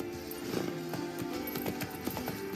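Horse hooves clip-clopping in the video game Witcher 3, a quick, even trot of sharp hoof knocks over a low ambient bed, close and steady with no talk.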